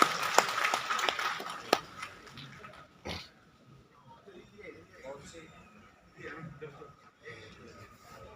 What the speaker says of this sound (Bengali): আমরা সবাই জোরে একবার হাততালি দিয়ে